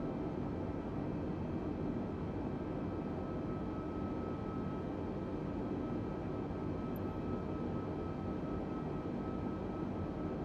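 A simulated airliner engine from Microsoft Flight Simulator 2020 hums as a steady, low, droning roar with a faint whine above it, unchanging throughout.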